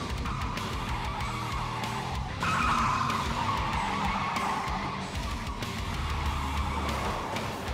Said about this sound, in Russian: И да, нам добавили звук визга шин при торможении.